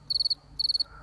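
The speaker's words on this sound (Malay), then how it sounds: "Bunyi cengkerik dan riang-riang sahut menyahut seakan berpesta." Crickets chirping at night in a quiet, dim setting, two clear bursts of rapid high trilled pulses separated by a short pause, fairly close and alone with no voices.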